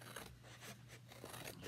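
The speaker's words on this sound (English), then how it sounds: "I'm going to cut on the cut lines of this transfer" Scissors snipping along the cut lines of a Chalk Couture adhesive stencil transfer, a series of quiet, crisp cuts repeating at a steady pace and heard faintly and close.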